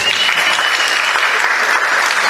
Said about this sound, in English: Let's give a round of applause to Live On New York, please